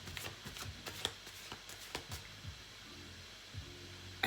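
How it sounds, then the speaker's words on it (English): A deck of playing cards is shuffled close by, the riffles coming as quick, light, irregular bursts of papery flicks and taps, set against a faint low hum. "I'm shuffling the cards"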